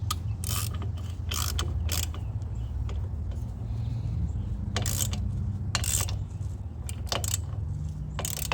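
Ratchet tightening a bolt with a lock washer on a rusted lawn cart being restored: repeated quick clicking strokes in uneven bursts, close and fairly loud, over a constant low hum.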